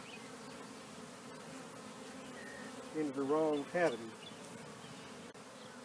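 Honeybees drone in a dense, continuous buzz around an opened hive during an inspection, close and steady throughout, while someone speaks briefly over the swarm in the middle.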